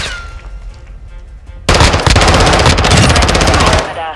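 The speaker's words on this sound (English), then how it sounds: "Taking effective fire" Sustained automatic gunfire in Call of Duty: Modern Warfare 2 erupts suddenly after a quiet lead-in and rattles loud and close for about two seconds before cutting off.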